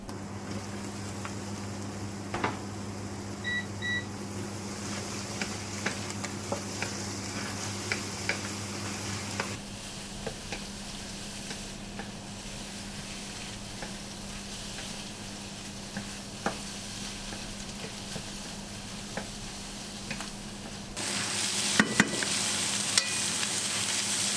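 Broccoli, cabbage and carrot stir-fry in a generous amount of oil in a pan, giving a steady sizzle with occasional stirring scrapes and a brief louder burst near the end.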